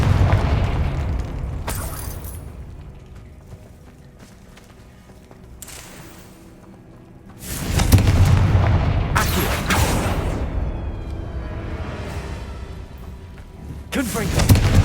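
Confringo fire spell blasts in the Hogwarts Legacy video game, with several loud booming bursts, the heaviest coming in quick succession late on, over a low rumbling background.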